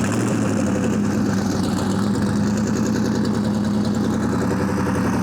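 A twin-turbo Coyote V8 swapped into a Fox body notchback runs at a loud, steady cold idle, with a deep, even rumble and a faint lope that holds for the whole stretch.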